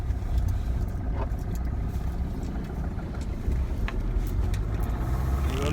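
A Maruti Suzuki Ritz with an axle problem drives along on a rainy-season road, its steady engine drone and road rumble continuous and fairly loud throughout, with no talk.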